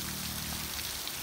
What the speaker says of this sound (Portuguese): Muita chuva, gente, olha isso.